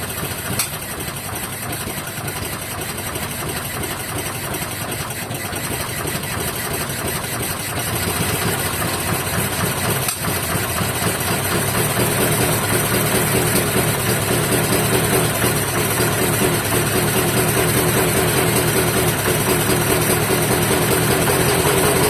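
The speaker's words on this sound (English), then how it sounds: "Let's bring that idle up a little more." A Homelite 20-inch push mower engine idles steadily and alone, its running note growing a little louder and fuller partway through as the idle is raised.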